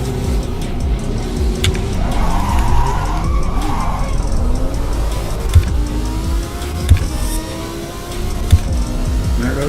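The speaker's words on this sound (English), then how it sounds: "There goes the F1 car." An F1 car in the Assetto Corsa EVO racing game roars past with a loud, continuous engine note whose pitch climbs and sweeps, under other engine noise, with a few sharp thumps near the end.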